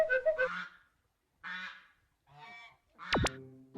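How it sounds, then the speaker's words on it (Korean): Loud, harsh goose honks in several bursts separated by short pauses, close by, ending with a sharper, rising call. "거사미가 시끄럽게 울며 도착한 곳은 알통 앞."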